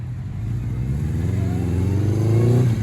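A 1984 Honda Nighthawk CB700SC motorcycle with an F1 exhaust revs up close, its rumbling engine note climbing steadily in pitch and loudness over a few seconds.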